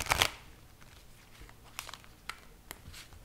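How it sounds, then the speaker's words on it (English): Tarot cards are shuffled, a quick riffling burst at the start followed by a few soft, sparse card snaps and taps, quiet and close. "One more shuffle."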